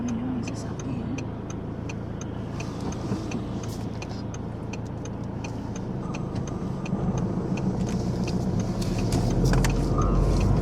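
Road traffic keeps up a steady, continuous rumble as cars pass during an outdoor walk on a sunny day, with faint ticking sounds over it and a gradual rise in loudness toward the end.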